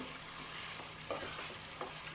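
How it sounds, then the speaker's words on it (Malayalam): Marinated chicken pieces for butter chicken are stir-fried in a pan over medium flame: a steady, close hiss of sizzling oil with brief scraping stirs and clatters, and no voices. "നമ്മുടെ ചിക്കൻ പീസസ് ഒന്ന് നന്നായിട്ട് ഇളക്കി കൊടുക്കുക."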